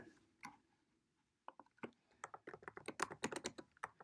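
Keys on a computer keyboard tap in a few scattered clicks after a quiet pause, then speed up into a fast run of typing, close and crisp with no talk.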